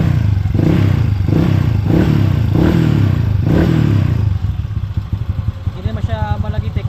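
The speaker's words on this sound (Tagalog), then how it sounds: "Mamaya aandar na po ito." A Mio M3 scooter-type motorcycle engine with a 59 mm big valve, CRP 6.0 cam and compression release cranks with rhythmic heavy chugging pulses, then catches and runs with a fast, close, steady putter.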